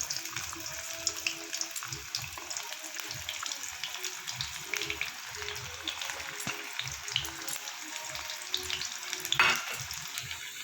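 Two medium onions, chopped, frying in hot oil in a pan, a soft continuous sizzle with faint stirring and scraping, fairly quiet.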